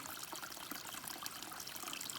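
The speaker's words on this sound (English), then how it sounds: "filtering water" Stream water being filtered on a hike, a continuous bright splashing trickle with no pauses, heard up close and fairly quiet.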